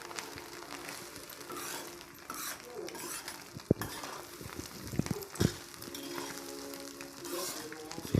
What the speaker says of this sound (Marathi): तर आता याला व्यवस्थित परतून घ्यायचंय.